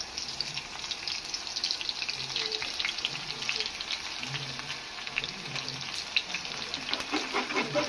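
Crushed garlic frying in hot oil, a steady close sizzle and crackle with faint background noise throughout.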